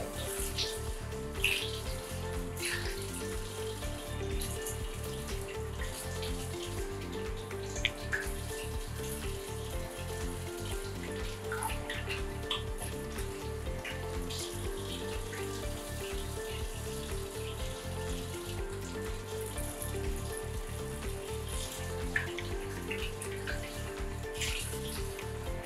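Water running steadily from a tap while a face is rinsed with lukewarm water, a continuous faint splashing hiss with small intermittent droplet sounds and no talking.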